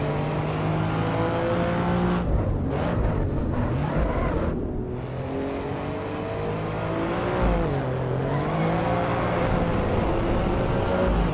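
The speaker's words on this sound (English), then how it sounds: "Bit of wheel spin there." Alfa Romeo race car in Assetto Corsa EVO, engine droning loud and steady with shifting revs as the tyres briefly spin, continuous game engine noise throughout with no talk.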